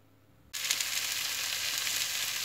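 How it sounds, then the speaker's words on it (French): Cabbage and butter hit a hot pan and break into a loud, steady sizzle that starts suddenly and holds evenly throughout, close up with no talking. "On va mettre le beurre dans la poêle et le chou"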